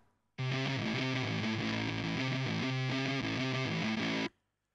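An electric guitar plays through a Kazrog Ram Fuzz plugin modelled on an Electro-Harmonix Big Muff, giving a thick, sustained fuzz riff that starts abruptly, holds at a steady, loud level for about four seconds, then cuts off.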